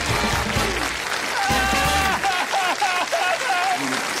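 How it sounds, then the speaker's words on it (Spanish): Applause from a TV studio audience on a Saturday variety comedy show, a loud steady clapping lasting a few seconds, mixed with some chuckling and music. "Un fuerte aplauso para ella"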